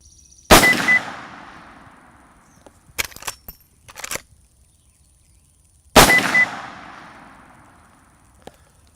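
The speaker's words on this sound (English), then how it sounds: "Now let's load the rifle and get our next round of sighters down range." Two sharp, loud rifle shots ring out about five seconds apart while sighter rounds are fired downrange, each cracking and then decaying. Softer clanks and handling noises from working the rifle fall between them.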